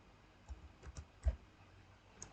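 A few soft keystrokes on a computer keyboard, three or four quiet separate clicks in a near, otherwise quiet room.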